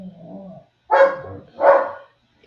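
Dogs at dinner time give two sharp, loud barks close by, spaced under a second apart, after a brief low whine at the start.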